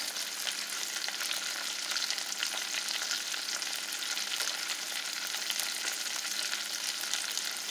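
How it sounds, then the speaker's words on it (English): Cabbage rolls fry in a pan over moderate heat, giving a continuous, even crackling sizzle that holds steady throughout with no voices. "we're going to fry on both sides for 5 minutes"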